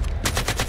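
Rapid bursts of automatic gunfire in the military shooter Delta Force Hawk Ops, several quick volleys fired back to back, loud and close with no talking.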